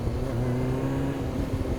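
A motorcycle engine drones steadily with a slight pitch rise through a brief wheelie, heard up close in a short burst, with wind rush over it.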